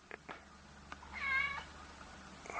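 A young cat left behind at a property meows once, a clear rising-falling call mid-clip, with a few faint clicks and knocks around it in an otherwise quiet space; no speech.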